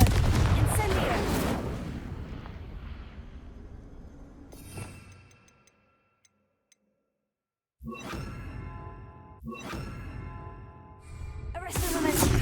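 Confringo and Incendio spell blasts in the video game Hogwarts Legacy: heavy fiery bursts and crackling whooshes, loud and close, separated by a fading tail and a stretch of near silence before fresh blasts.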